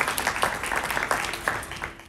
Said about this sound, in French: Oui, on peut les applaudir